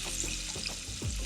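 Onions sautéing in a pan over a low flame for a padaneer chicken curry, a soft continuous sizzle with faint stirring scrapes, close and steady.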